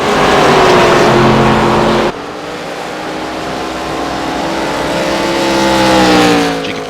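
ARCA Menards Series race car at Phoenix in iRacing, its engine droning loud and close with a sharp cut to a lower, rising whine as it shifts and accelerates away.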